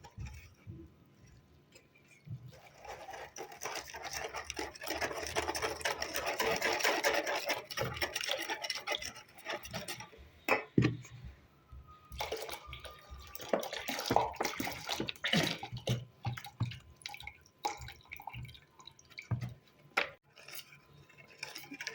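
Milk is whisked by hand in a bowl for a dessert, giving quiet repeated clinking and sloshing strokes in uneven bursts, close up with no talking.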